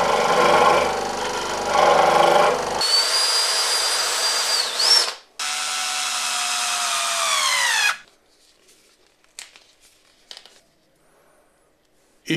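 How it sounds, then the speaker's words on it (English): A power drill whirs at high pitch for several seconds, revving up and bogging down as it bores a hole into a spear launcher part, then stops, followed by a few small clicks and taps. "now we drill a hole into the front"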